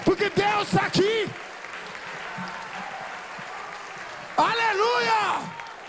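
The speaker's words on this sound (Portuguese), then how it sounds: "Na África alguém ia dar uma salva de palmas." Church congregation applauding during a sermon, with bursts of clapping at the start and again near the end around a stretch of preaching voice in the middle.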